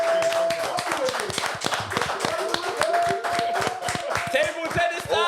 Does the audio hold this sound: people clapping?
yes